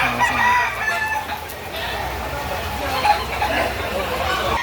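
Roosters and hens at a Filipino gamefowl farm, including birds around nine months old, crow and cluck amid a busy background of farm noise, with a voice talking over them.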